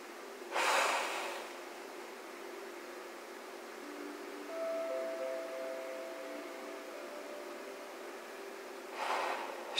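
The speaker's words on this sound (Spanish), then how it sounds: "Vamos a seguir respirando un poquito mientras todo se integra." Slow, deep breaths during a guided meditation: a loud breath near the start and another near the end, with a long quiet stretch of soft hiss and faint steady tones between them, and no talking.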